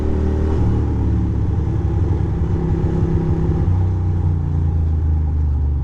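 A Ducati motorcycle cruises on a road with a freshly rebuilt suspension, its engine thrumming loud and close in a steady low rumble, the pitch dipping slightly toward the end.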